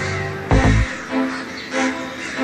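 Crows cawing in the yard of Serbia's biggest prison, where peacocks and cats also wander, one loud harsh caw followed by fainter repeated calls.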